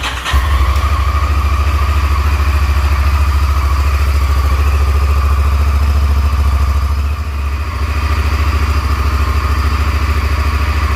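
A Honda VTR Firestorm motorcycle idles steadily after a carburetor air-fuel mixture tune, a loud, close, even rumble with a slight mechanical clatter and one brief dip partway through.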